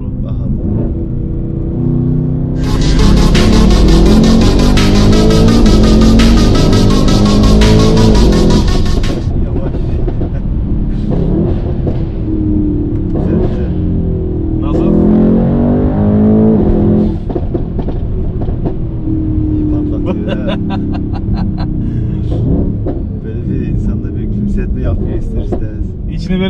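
A Mercedes W213 E63s with stage 2+ software and exhaust accelerates hard, giving a loud, close roar with a dense blast, then rising revving sweeps, while people talk over it.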